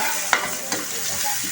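River-caught fish sautés in very hot oil for sarsiadong isda in Aklan, a dense close sizzle with two quick utensil knocks against the pan.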